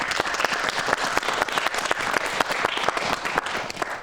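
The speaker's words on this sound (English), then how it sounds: "Let's give them another round of applause." Children and adults applaud the young actors after skits in a kids' program, with a sustained round of crisp clapping that holds at an even level for several seconds.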